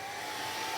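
A handheld craft heat dryer blows steadily on a paper tag, a close, even whirring hiss held without a break.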